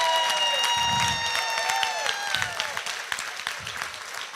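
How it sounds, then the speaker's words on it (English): An audience at a workplace nutrition summit applauding together, a dense, sustained wash of clapping with a faint tonal ring over it that thins out slightly toward the end. "I want you to give Jenny the loudest clap"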